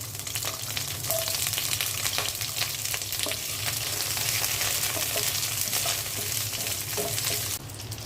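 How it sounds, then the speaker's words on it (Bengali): Chopped onions sizzle in a pan as fried rice gets started, a loud continuous crackle with light stirring clinks and a low steady hum beneath. "ফ্রাইড রাইস রান্নার জন্য আমি পেঁয়াজ দিয়ে দিচ্ছি।"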